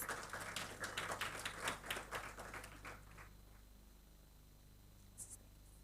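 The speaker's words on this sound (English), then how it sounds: "With a round of applause, please." Faint, distant applause from a conference crowd in Accra, steady clapping for a few seconds that tapers off into near silence.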